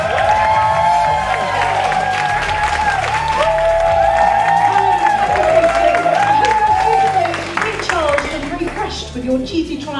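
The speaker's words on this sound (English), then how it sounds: "Will you please give her an enormous round of applause?" Audience applause fills a hall at an arts and culture awards ceremony, steady clapping and some cheering under continuous amplified talk, fading near the end.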